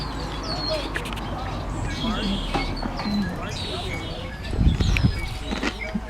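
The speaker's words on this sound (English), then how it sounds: "Red-winged blackbirds and an arbutus tree." Red-winged blackbirds chirp and trill in an arbutus tree, calls repeating at middle distance, with a low rumble and a brief louder thud of nearby noise near the end.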